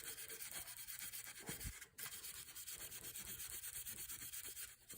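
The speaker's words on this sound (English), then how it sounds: "It's just lots of rubbing down." A gun stock is rubbed down by hand in a steady, close, continuous abrasive rubbing with a brief break partway through.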